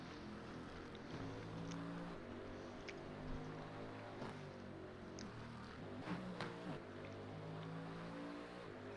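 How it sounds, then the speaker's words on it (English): A race car in the iRacing sim game spins its wheels in a post-race burnout, a continuous rasping engine roar held at high revs with small surges, heard alone at moderate level. "Do an SVG-esque burnout now"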